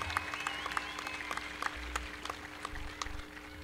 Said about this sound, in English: Let's give all the students a big round of applause.